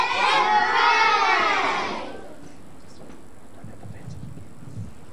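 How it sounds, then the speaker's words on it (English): A group of children cheers, whoops and shouts together in a loud, high-pitched burst that stops abruptly after about two seconds, leaving quiet background noise. "They cheer, they clap, they whoop, they shout."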